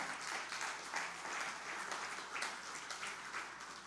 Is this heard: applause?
yes